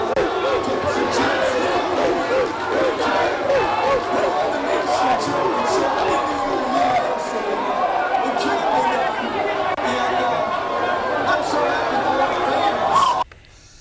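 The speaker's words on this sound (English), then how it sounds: "Let's get more of the crowd reaction." A large crowd celebrating an IU Hoosiers championship win roars and chatters in a dense, steady wall of cheering and babble that holds throughout before cutting off abruptly at the end.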